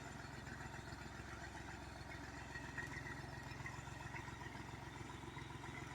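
A tractor skids a felled tree across farmland, its engine chugging in a steady, low, rhythmic idle-like rumble with faint clatter, close and continuous throughout with no talk.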